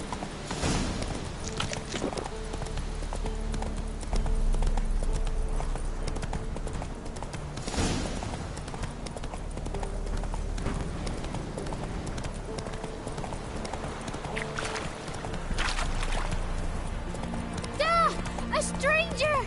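Roach, the horse in The Witcher 3, trots along in a steady clip-clop of hooves with some snorting. Game voices and music play over the hoofbeats, and a whinny is heard near the end.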